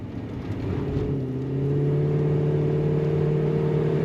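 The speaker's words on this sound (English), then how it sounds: "Nice exhaust sound coming out, not excessive, just enough to know that that's a V8." A 1987 Chevrolet Monte Carlo SS V8 idles with a low, steady rumble and swells slightly, then settles into a constant deep exhaust drone, moderately loud and close.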